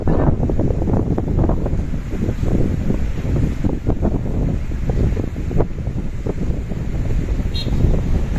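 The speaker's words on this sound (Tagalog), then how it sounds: "Medyo malakas na yung alon kasi high tide na." Strong sea waves at high tide crashing near a port, a continuous low rumbling wash with repeated surges, heavily buffeted by wind noise on the microphone and no voices.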